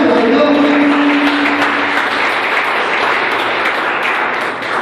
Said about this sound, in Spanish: ¿Cuánto le da un aplauso a Dios?